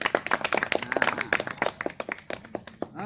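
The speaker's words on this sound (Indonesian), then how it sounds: "Beri aplaus dulu." A classroom group claps together in a quick, uneven burst of applause lasting a few seconds, close and lively, with no talking over it.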